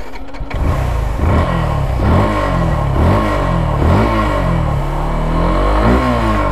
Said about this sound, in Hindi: उससे पहले मैं सुना था आपको बाइक का एग्जॉस्ट नोट।